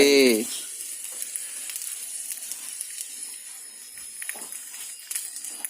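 Dumplings fry in an oiled pan, the oil sizzling steadily with a soft, continuous crackle, after a brief voiced sound at the start and a few faint clinks.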